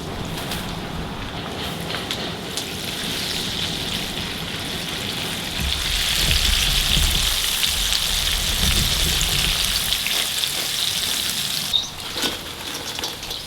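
Lemongrass popcorn chicken pieces frying in hot oil, a steady dense sizzle and crackle like rain, close and continuous, swelling slightly louder midway.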